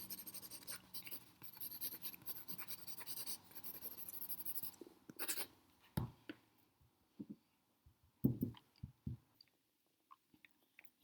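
Pencil drawing diagonal lines on paper for a wolf sketch: repeated scratchy strokes, continuous at first and then in short separate bursts, close and quiet.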